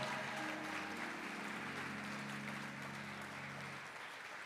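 A storytelling-night audience gives a warm, steady round of applause, dense clapping that holds for several seconds before beginning to thin out, with a faint tonal hum underneath.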